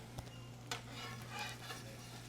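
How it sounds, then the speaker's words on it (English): Sauerkraut sizzles on a restaurant grill with a soft, steady crackle and hiss, broken by a couple of faint taps, quiet and without voices. "you take a pinch of the sauerkraut, a lot of sauerkraut. Gotta have a lot of sauerkraut. Let that sizzle on there."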